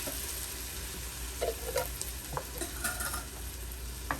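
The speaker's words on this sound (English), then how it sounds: "That sizzle when you first pour the can in." Canned tomatoes sizzle in a hot pan with a steady frying hiss, punctuated by occasional stirring scrapes and clinks, ending with a sharp clatter.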